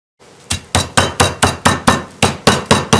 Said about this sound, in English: We pounded them out really nice and thin.